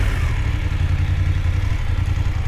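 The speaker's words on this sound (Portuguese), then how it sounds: "Manobrar a moto." Motorcycle engine idling low and steady at close range while the bike is maneuvered, a continuous rumbling chug with some mechanical clatter and no talking.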